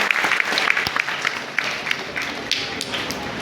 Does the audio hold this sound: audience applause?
yes